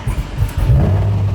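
An LS-swapped Porsche 911 V8 cranks and fires up, a short loud burst of low engine rumble that stutters briefly, then settles into a steady growl, close and without talk.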